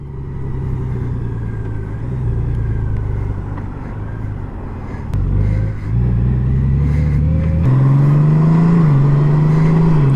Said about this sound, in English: the GOLDWING can still go even with a trailer attached